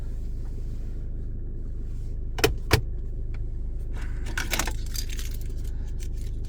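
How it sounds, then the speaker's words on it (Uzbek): Keys for a 2024 Mercedes-Benz E-Class W214 Avantgarde 2.0 jangle near the car, a couple of sharp metallic clinks followed by a brief rattling cluster over a low, steady cabin hum. "Kalitlari."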